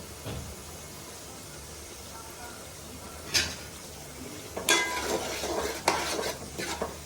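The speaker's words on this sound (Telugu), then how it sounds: "ఇదైతే బాగా పచ్చివాసన పోయే వరకు వేపుకుందామండి మనం" Fish curry masala with tomato paste, green chillies and curry leaves fries and gets stirred in a pan, a steady sizzle broken by sharp scrapes and clinks of a spoon against the metal that grow busier toward the end.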